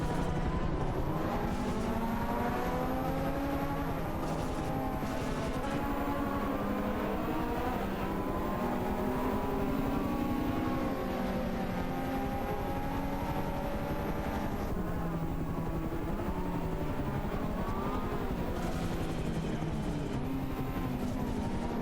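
Several race car engines drone and whine together in a video game race, their pitches rising and falling as cars overtake one another, a dense continuous roar with no voices.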